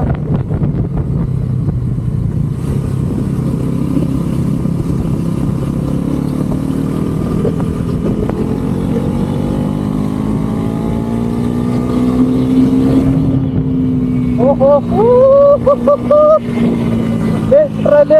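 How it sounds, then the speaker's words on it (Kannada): A Bajaj NS400z motorcycle pulls hard in fifth gear, its engine note climbing steadily in pitch over a constant roar of wind and road noise, with a brief higher whine near the end. "ಇವಾಗ 5th ಗೇರ್ಗೆ ಹಾಕೊಂತೀನಿ. ಸೊ ಇಲ್ಲಿಂದ ಫುಲ್ ಮಾಡೋಣ."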